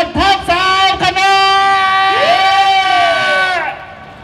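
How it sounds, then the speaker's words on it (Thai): Crowd cheering and whooping during a Phetchaburi ramwong dance workout session: loud, close voices rise in a sustained wave of shouts for about three and a half seconds before dropping away sharply. "มาเสียงปรบมือมาแล้ว"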